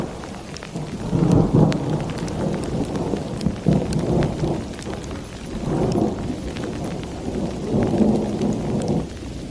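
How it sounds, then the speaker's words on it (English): Steady rain patters on surfaces during a wintry Dallas storm mixing thunder and ice, while deep thunder rolls swell and fade several times, loud and close, with no voices. "A thunderstorm and an ice storm all mixed up together"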